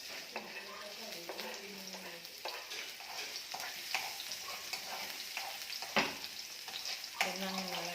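Onions frying in plenty of oil in a pan, a close steady sizzle broken by stirring scrapes and clatters, with faint voices in the room underneath.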